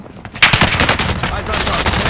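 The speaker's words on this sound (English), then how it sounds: "Under hostile fire." Rapid automatic gunfire in the video game Warzone, a loud, dense burst of shots that keeps rattling for about two seconds.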